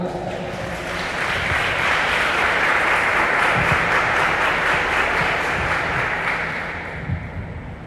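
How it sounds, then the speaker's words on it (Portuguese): Congregation applause at the Sal da Terra prayer group, a sustained wash of many hands clapping that builds, holds steady for several seconds and tapers off, with voices mixed in. "Vamos aplaudir a palavra"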